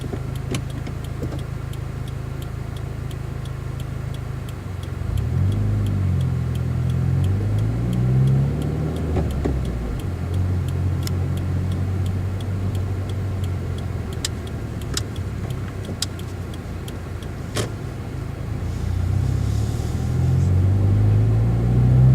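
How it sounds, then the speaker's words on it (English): A 2017 Subaru WRX with a Cobb Accessport Stage 1 tune is heard from inside while driving, a steady engine and road rumble that swells as the car pulls, with faint ticking over it. "Let's keep driving."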